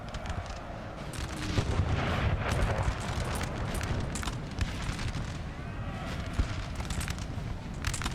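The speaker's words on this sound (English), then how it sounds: "Got artillery here as well. It's been just plugging away on those Prussian lines." Artillery fire in a Napoleonic battle video game: a dense, loud rumble of cannon booms and crackling volleys rolling on continuously, with sharper individual shots standing out now and then.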